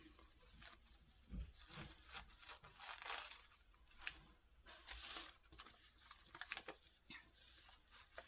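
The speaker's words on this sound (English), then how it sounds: "This one is a little too big, so I'm going to cut a piece of it." Scissors cut through a piece of paper napkin, making soft, close, faint snips and crinkles in a quiet room with irregular brief bursts.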